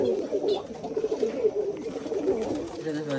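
Pigeons coo in a steady, overlapping murmur at a country pigeon farm, close by and continuous, while a person talks over the birds.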